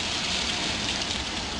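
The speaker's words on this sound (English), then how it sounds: "You hear it sizzle." Yorkshire pudding batter poured into very hot fat in a tin, giving a steady, close, loud sizzling hiss without pause and with no talk over it.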